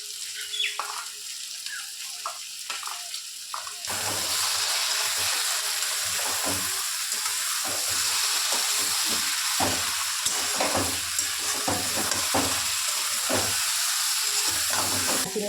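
A cooking dish bursts into loud, broadband sizzling as pre-fried small shrimp drop into the hot pan, jumping from quieter frying to a steady hiss that continues with small crackles throughout.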